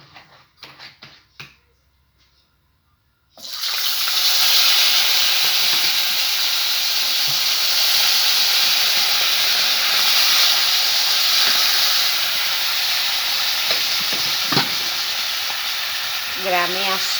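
Fresh fish from a village home pond sizzles loudly in hot oil, a steady close hiss of frying that bursts in after a few quiet seconds with faint handling noises, and continues unbroken to the end.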